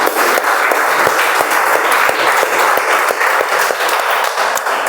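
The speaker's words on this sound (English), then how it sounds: "Please give her a big round of applause." Audience applause after a speech at a speech-marathon club meeting, a loud, dense, steady wash of many hands clapping together, sustained without pause from start to finish.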